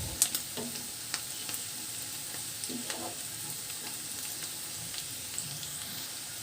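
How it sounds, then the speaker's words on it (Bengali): Green chili and chopped onion fry in a pan with a soft, steady sizzle, stirred now and then with a few light scraping clicks, close and fairly quiet, with no talking. "নেড়ে চেড়ে হালকা করে একটু ভেজে নেব।"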